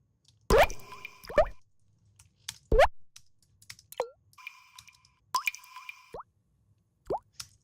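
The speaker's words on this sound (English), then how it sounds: "We have like drop of water" Water drop sound samples: several separate plops and drips with sharp pitched attacks, spaced apart with silence between, some ringing briefly with a hollow resonant tail.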